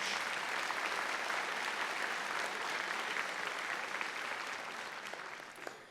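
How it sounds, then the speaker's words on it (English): An audience at a college convocation ceremony claps in a sustained, dense round of applause that fades slightly toward the end, heard at a distance and without speech. "I think that deserves a huge round of applause"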